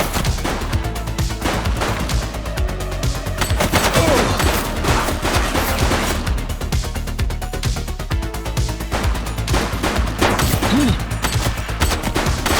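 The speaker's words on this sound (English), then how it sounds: "He's shooting!" Loud, sustained video game gunfire in The Precinct, a police shooter, with rapid automatic bursts and single shots layered over a dense, continuous soundtrack for the whole stretch.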